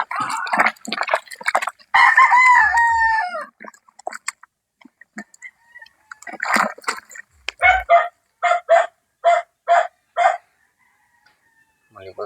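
Backyard chickens and roosters: a rooster crows a long drawn-out call early on, then a run of short, evenly spaced clucks or squawks, with someone talking in between.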